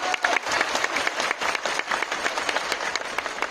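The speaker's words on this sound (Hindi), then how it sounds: "एक बार जोरदार तालियां शरद चौधरी जी के लिए होता है।" Loud applause for Sharad Chaudhary at a Modicare program event in Patna, a dense, continuous crowd clapping that holds steady throughout at moderate distance.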